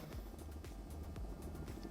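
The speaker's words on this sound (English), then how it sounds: "201 as the helicopter comes back around" A helicopter circles over a seaside links course in a golf simulator game, its steady rotor drone carrying on low and continuous throughout, with no talking.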